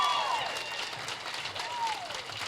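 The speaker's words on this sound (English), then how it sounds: "a huge round of applause for Tammy Wilden, our school secretary" Applause for a school secretary at a school gathering, a fairly faint, steady wash of crowd clapping with some whistles in the room.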